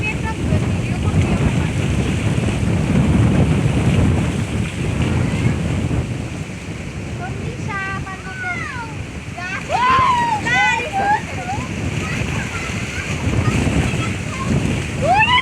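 Stormy wind roars and buffets the microphone over a swollen river in rain, with a constant wash of churning waves and brief high calls or voices partway through.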